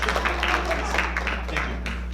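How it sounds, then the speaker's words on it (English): An audience at a circuit court candidate judicial forum claps, a moderate, fairly steady patter of hands over a constant low electrical hum, with a few voices faintly mixed in. "clap now if you want"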